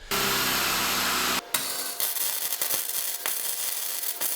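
A power drill bores a hole at the end of a crack in the steel body of a BMW E46. It makes a loud, steady grinding whir for about a second and a half, then stops, followed by scraping and rattling handling noises.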